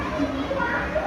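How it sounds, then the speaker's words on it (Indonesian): Children chatter and play noisily in the background, a continuous blur of young voices and scattered shouts near a room where someone is recording. "Anak-anak ribut sekali."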